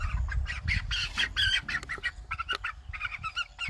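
A flock of Cornish Cross broiler chickens squawks and clucks continuously at close range, a busy, overlapping chorus of harsh calls with no speech.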